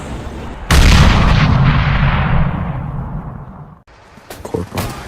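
Heavy explosions from an air attack on a battlefield in a stop-motion war film: a sudden loud blast roars and slowly rumbles away, then a second, sharper burst of detonations follows near the end.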